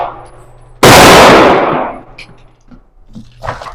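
A single loud, close gunshot from a Taurus Judge revolver firing .45 Colt at a shooting range bursts out sharply and rings off in a decaying tail, followed by faint small sounds.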